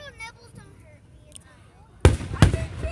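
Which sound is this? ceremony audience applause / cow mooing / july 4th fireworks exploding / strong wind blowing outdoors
july 4th fireworks exploding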